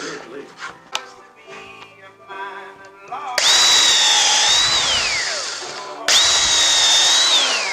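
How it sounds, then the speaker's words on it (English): A power drill pre-drills rough-cut treated lumber for a rabbit hutch, two loud whirring bursts with rising and falling pitch, preceded by some quieter handling noises and faint voice. "Always pre-drill everything or you will split it."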